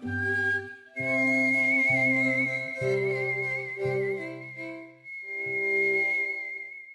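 Whistled melody from a skilled performer using whistling as a genuine musical instrument, clear sustained tones over a backing accompaniment with bass and chords, loud and continuous for several phrases with brief pauses.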